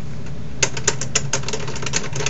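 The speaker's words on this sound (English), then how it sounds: "My typewriter, isn't that cool?" A typewriter clacks through a run of sharp, fairly evenly spaced keystrokes over a steady low hum, close and clear with no talking.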